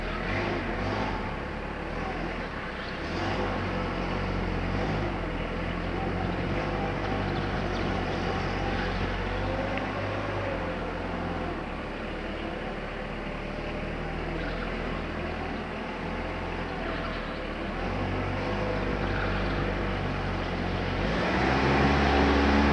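A Mitsubishi forklift truck drives forward through a slalom, its engine droning steadily and loudly throughout with slight rises and falls in pitch, swelling toward the end.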